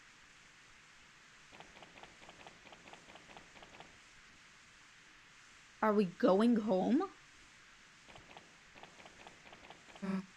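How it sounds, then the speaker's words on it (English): Steady rain in the video game Deltarune, a soft continuous hiss of falling water running through the whole scene beneath a voice talking. "Great, now it's raining."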